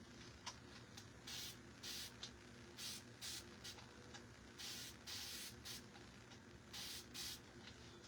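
A spray bottle of water is pumped repeatedly during a craft project, with about a dozen short, quiet hissing bursts coming in irregular clusters over a faint background hum.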